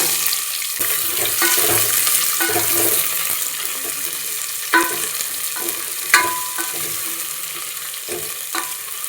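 Cut vegetables for a vegetable sagu, with capsicum among them, sizzle in oil already tempered with mustard seeds and curry leaves, while a spoon stirs and scrapes the pan in irregular close knocks.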